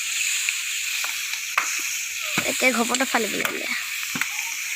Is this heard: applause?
no